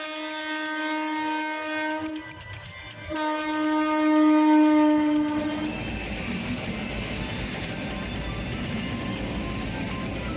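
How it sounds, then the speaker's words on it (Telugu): A long double goods train of two joined freight trains: a loud sustained horn, then the rumble and rattle of wagons rolling past, rising and steady nearby. "ఇంకా ఫైనల్గా ట్రైన్ కూడా వచ్చేసింది"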